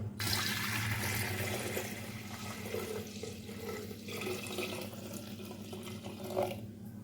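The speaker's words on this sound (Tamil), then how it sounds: "அரிசி களைஞ்ச தண்ணி இதில் சேர்த்துக்கலாங்க" Water left from washing rice pours into a pot of milk for sweet pongal, a steady splashing and trickling stream that runs for several seconds and eases off slightly, close and fairly quiet, with no talking.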